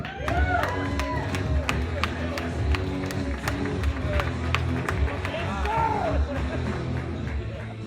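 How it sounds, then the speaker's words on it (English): Comedy club audience at El Rancho clapping and cheering after a stand-up set, a dense steady wash of applause with scattered whoops and crowd chatter throughout. "One more round of applause for MSE."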